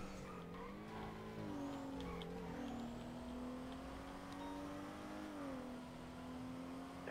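A car in the video game GTA roars at top speed along a San Andreas road, its engine holding a steady high drone with shifting pitch and brief tire squeal, loud and continuous with no voices.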